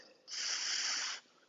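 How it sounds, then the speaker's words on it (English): A slow, steady breath pushed out through compressed lips, a broad airy hiss lasting about a second, close and moderately loud with no talking over it. "when we breathe out, we're breathing out through compressed lips."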